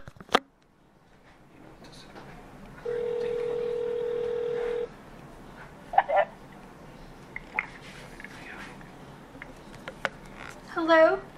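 A telephone gives a steady electronic tone lasting about two seconds, followed by scattered faint clicks and short beeps at moderate volume in an otherwise quiet room.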